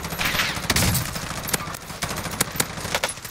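Rapid bursts of automatic gunfire and scattered shots in a shooter video game, loud and close, with irregular sharp cracks over a dense battle backdrop.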